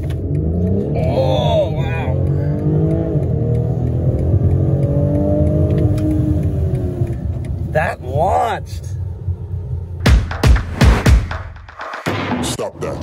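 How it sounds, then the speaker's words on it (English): A 2021 BMW X3 M40i with sport exhaust launches hard in sport mode, its loud engine note climbing steadily through the revs before a quick shift and sharp, punchy exhaust bursts near the end. "We'll do one more launch now that it is clear."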